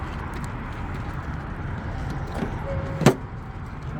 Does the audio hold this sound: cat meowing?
no